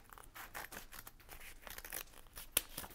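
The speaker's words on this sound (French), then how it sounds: "Il prend ses ciseaux et découpe son plan." Scissors cut through a paper architectural plan, producing quiet irregular snips and rustling crinkles close up, with a sharper crisp snip near the end.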